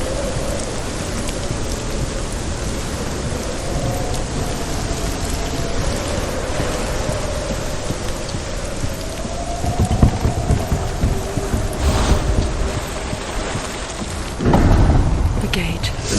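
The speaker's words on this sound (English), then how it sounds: "It's really stormy out here." Heavy rain pours through a thunderstorm in the video game Hellblade: Senua's Sacrifice, a dense constant hiss with low rumbling thunder swelling near the end, and no voices.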